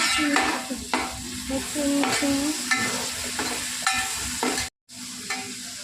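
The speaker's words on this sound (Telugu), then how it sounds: "ఇప్పుడు టమాటోస్ వేయాలి." Tomatoes fry in a pan with ginger for gongura chicken under a constant sizzle. A spatula stirs in regular strokes about once a second, each stroke a sharp scrape, and a brief dropout comes near the end.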